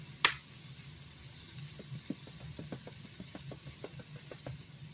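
Scrambled egg ingredients cook in a pan with a soft sizzle. A sharp clank opens the sound, then light scattered ticks and taps follow, like stirring with a utensil.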